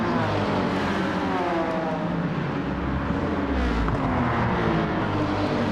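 A Dodge Viper's engine droning steadily in a Tokyo racing video game, a loud continuous roar with slight shifts in pitch as the throttle varies, heard alone throughout.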